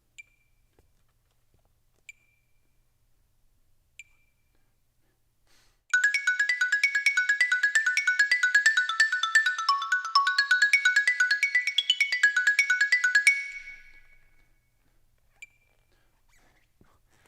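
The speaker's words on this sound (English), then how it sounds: "I'm going to move on and just put the click at the beginning of each bar" A few faint isolated metronome clicks, one at the start of each bar, sit in near silence, then a dense burst of bright tinkling tones plays for several seconds and fades out.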